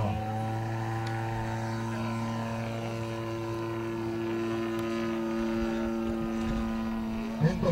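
Model tow airplane with a DL50 motor droning steadily at an aerodrome, a constant buzzing engine tone held at moderate distance throughout, without any spoken voices.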